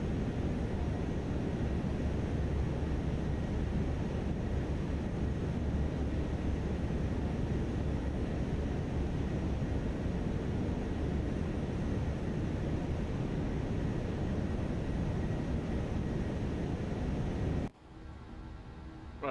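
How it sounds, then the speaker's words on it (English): A loud, steady aircraft engine drone from a flight simulator game holds constant as a dense broadband roar, then cuts off abruptly near the end, leaving quieter background noise. "there's been a few people saying that the engine noises are too loud"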